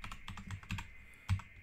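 Rapid clicking of keys typed on a computer keyboard, close and fairly quiet, in an uneven rhythm with a slightly heavier keystroke near the end.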